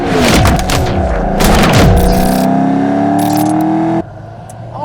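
Loud, close rumble and revving roar from a factory supercharged 2004 Saleen Mustang with a 4.6 engine and five-speed, accelerating on a test drive, with deep thumps and a steady drone that drops away abruptly near the end.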